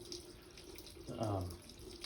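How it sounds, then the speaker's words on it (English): Water drains by gravity out of opened household taps after the pump is switched off, giving a faint, steady trickle with a brief gurgling splash near the end. "all the water that's in the lines is going to be making its way out just by using gravity"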